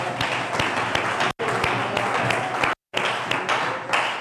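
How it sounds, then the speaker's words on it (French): Audience applause at a church service, a dense steady wash of clapping filling the room, cut by two brief silent gaps before resuming at the same loud level. "Applaudissons le Seigneur."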